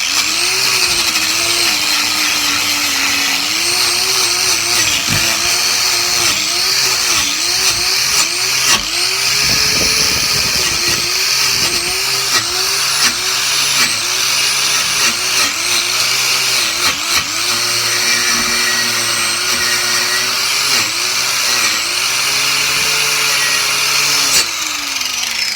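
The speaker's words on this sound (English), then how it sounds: "put on our earmuffs and our face shield because safety first, and wire wheel that really quick" Wire wheel scrubbing forge scale off a steel bottle opener, a loud continuous high-pitched whine and grinding rasp with a wavering motor pitch, steady and close throughout.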